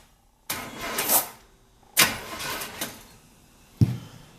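A small-block Chevy engine in a Ford turns over on the starter in three short bursts, each a close, loud whirring crank lasting about a second, separated by pauses, the last burst cut off quickly.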